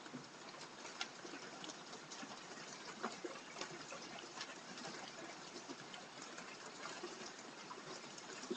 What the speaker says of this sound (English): little bit of the rainstorm ordeal going on out here.